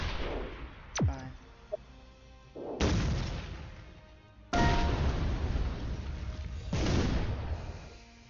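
Shellshock Live tank game shots and explosions: a whistling projectile, then three loud, booming blasts a couple of seconds apart, each with a long rumbling tail.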